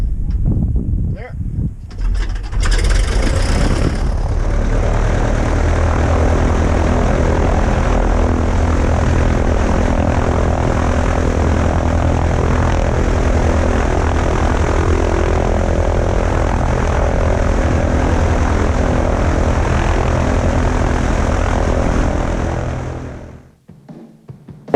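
A 1961 propeller airplane engine running at a steady, loud, close drone after a brief start-up, holding constant for about twenty seconds before abruptly cutting off.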